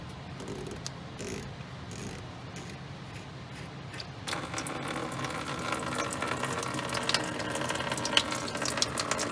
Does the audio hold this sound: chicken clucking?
no